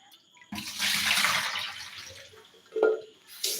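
Tomatoes are washed under running water, a close rushing stream that starts abruptly, flows for about two seconds, then gives way to a few brief splashes.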